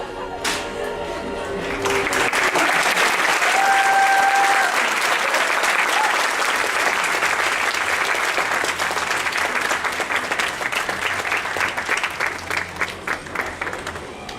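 An audience applauds the cast of a comedy stage show, loud sustained clapping from many hands that swells in after a few opening tones and holds steady, thinning slightly toward the end.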